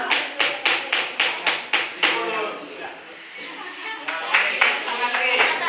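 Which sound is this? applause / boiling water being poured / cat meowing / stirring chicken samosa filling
applause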